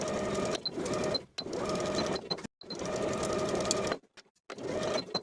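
A sewing machine stitches linen dress pockets onto the back of a shift dress in several loud, steady bursts, each run of rapid mechanical stitching broken by short pauses.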